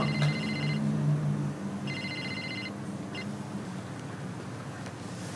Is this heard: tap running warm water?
no